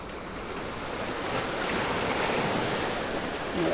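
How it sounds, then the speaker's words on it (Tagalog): Large ocean waves surging at a rocky fishing spot, a loud continuous roar of surf and wind that swells toward the end, with no voices. "Nako, may malaking alon."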